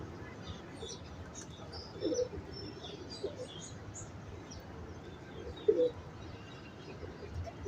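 Kept pigeons coo softly twice, once early and once later, as brief low murmurs over a steady background hiss, with no talking.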